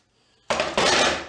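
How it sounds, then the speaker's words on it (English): Scraper dragged across stripped paint on a Riva boat: two short, close, harsh scraping strokes, one right after the other, following a moment of near silence. "Yeah, it scrapes."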